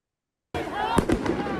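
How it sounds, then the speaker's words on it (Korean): A flash-bang grenade or rubber-bullet round fired by police at student protesters at UCLA's pro-Palestinian campus encampment: one sharp loud bang followed by a couple of smaller pops, amid a crowd din and voices. "경찰은 고무탄, 최루탄, 그리고 섬광탄, 수류탄을 학생들에게 이용했습니다."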